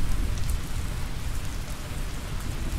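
Steady, dense rain pours in a multiplayer shooter video game, a continuous broadband hiss with low rumble that runs evenly throughout with no talk over it.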